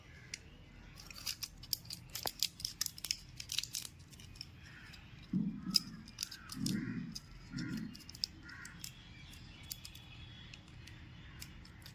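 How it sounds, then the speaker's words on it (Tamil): Scissors snipping through a sheet of aluminium foil during a small craft project, a run of quick crisp clicks and crinkly cuts up close, fairly quiet with a few soft thumps of handling. "நம்ம அலுமினியம் ஃபாயிலை நம்ம இந்த சைஸ்க்கு கட் பண்ணிட்டு"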